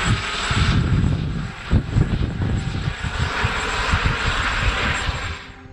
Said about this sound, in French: Le mardi, un hélicoptère est passé. C'était une gazelle,